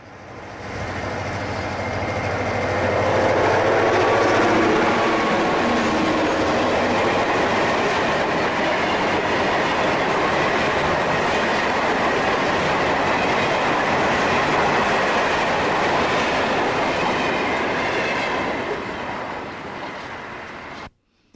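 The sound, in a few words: FEC work train of empty ballast hoppers passing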